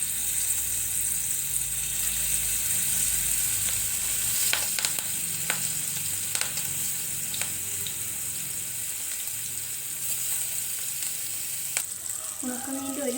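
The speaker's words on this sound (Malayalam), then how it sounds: "ഇനി നമുക്കിതിലേക്ക് മിക്സ് ചെയ്ത് വെച്ചിരിക്കുന്ന ഉണക്കമീൻ കൂട്ടിട്ട് ഒന്ന് ഫ്രൈ ചെയ്തെടുക്കാം" Dry fish masala frying in hot oil, a steady close sizzle running throughout with occasional sharp crackles and pops, and no talking.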